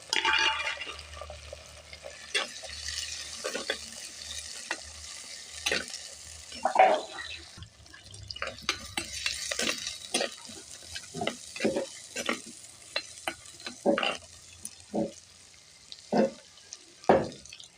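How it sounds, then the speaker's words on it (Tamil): Fenugreek and fennel seeds fry in a pan for a fish curry, a soft sizzle broken by repeated sharp clinks of a spoon stirring against the pan. "வெந்தய சோம்பு நல்லா கமகமான்னு பொரிஞ்சிருச்சு"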